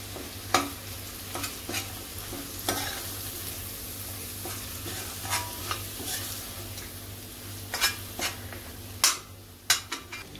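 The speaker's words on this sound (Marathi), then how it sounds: "कढीपत्ता घालते." Curry leaves sizzle in hot oil as a tempering for katachi amti, a dal dish, with a low, steady fry hiss broken by sharp scattered spoon scrapes and knocks against the pan.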